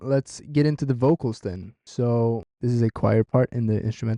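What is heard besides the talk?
No everyday noise stands out behind the speech.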